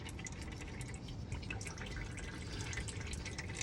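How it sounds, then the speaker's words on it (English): Engine oil dripping and trickling from the oil filter of a 2003-06 Chevrolet Silverado with a 4.3 litre engine, a soft steady dribble with small drip ticks, faint and close, no talk. "my oil is draining from the filter"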